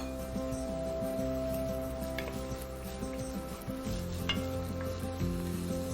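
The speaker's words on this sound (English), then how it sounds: "Now we're gonna get some onions going too. That's just one medium onion chopped up." One chopped medium onion sizzles steadily in a pan for a butternut sauce, a close, continuous frying hiss broken by a few light stirring scrapes and clicks.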